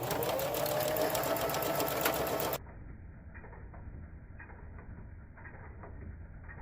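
A sewing machine hemming the sides of a fabric drawstring bag runs in a fast, steady, close whir for a couple of seconds, then cuts off, leaving only faint quiet room sound and soft handling noises.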